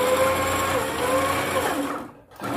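A sewing machine winds thread onto its bobbin with a steady, close motor whir and a constant tonal hum, which cuts off abruptly near the end and leaves a brief quiet gap before faint noise returns.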